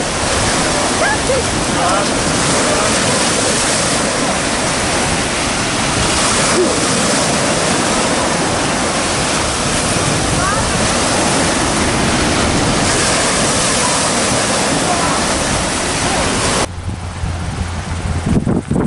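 Waves of the Sea of Japan roll in on a beach near Nakhodka, a loud, steady roar of surf with heavy wind buffeting the microphone, easing slightly at the very end.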